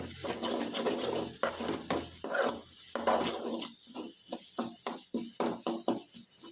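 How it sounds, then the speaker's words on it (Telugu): Spoon stirring garam masala through an egg curry gravy in a pan, a run of short scraping strokes with faint sizzle, the strokes growing more distinct and rhythmic toward the end, close and moderately loud with no talk. "అలాగే గరం మసాలా బాగా మిక్స్ చేసుకుందాం."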